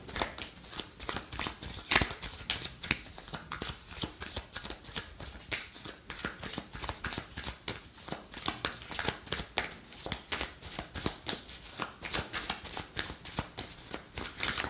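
Line of Love oracle cards are shuffled continuously, a close, rapid run of crisp flicking riffles repeating in quick rhythm with no voices.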